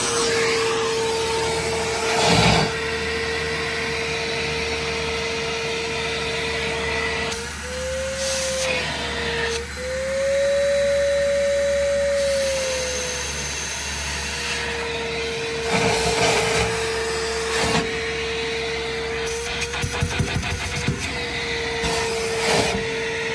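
A vacuum pulls steady suction during heat exchanger work, a loud continuous drone that holds one pitch and then rises and dips briefly partway through, with faint clunks and rattles over it.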